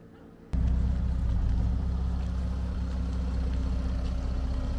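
A Mercedes rebuilt as a Batmobile starts up after a brief quiet moment, then settles into a steady, deep, loud idle with a strong low rumble.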